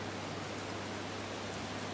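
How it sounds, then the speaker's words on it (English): Steady rain falls outside a garden bar, an even hiss of drops with a low constant hum beneath it, continuous and moderately loud with no voices. "It's raining"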